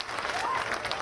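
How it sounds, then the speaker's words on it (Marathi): A crowd at a political speech gathering claps to congratulate Nitesh Rane, a brief burst of dense applause that fills the moment. "नितेश राणेंचं टाळ्या वाजवून जरा अभिनंदन करा"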